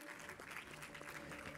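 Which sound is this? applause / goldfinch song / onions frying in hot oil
applause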